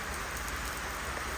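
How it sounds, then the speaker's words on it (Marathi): Heavy rain pours down steadily on the way into a village during Ganpati festival season, a dense, continuous broadband hiss with no voices. "पण भरपूर पाऊस पडतोय."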